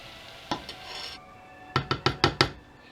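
A spoon knocks and scrapes against a pot while white and brown sugar are stirred into a chocolate cake mixture on the stove, one clack then a quick rhythmic run of five taps, close and clear.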